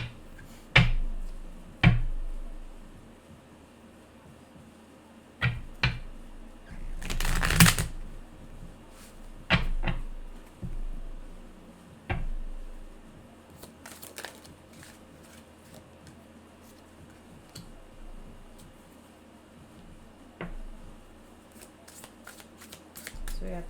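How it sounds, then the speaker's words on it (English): Tarot cards being shuffled by hand, with repeated crisp riffles and soft flicks scattered irregularly over a quiet room, one louder burst of rapid card slapping midway. "these are hard to shuffle."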